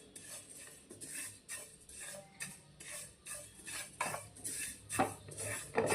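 Dry-roasting a filling mixture for Maharashtrian masvadi in a hot pan, with a spatula scraping and clinking against the metal in a steady irregular rhythm, close and fairly quiet, with no talking.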